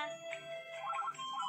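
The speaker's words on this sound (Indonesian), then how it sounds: "Telepon berdering. Bantu aku menjawab teleponnya." A cartoon telephone rings with a short, bright electronic ringtone of repeating melodic beeps, faint and alone.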